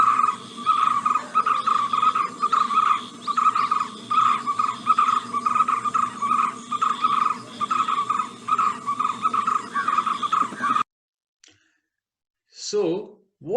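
A drongo bird mimics other animals and vehicles in a rhythmic series of repeated, varied calls over a steady background, then stops; a few louder sweeping calls follow after a short silence.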